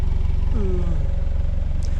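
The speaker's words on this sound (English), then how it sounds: "Give it another rev." Jaguar F-Type Chequered Flag Edition engine idling with a brief rev, a loud close-up exhaust rumble holding steady with a short rising note in the middle.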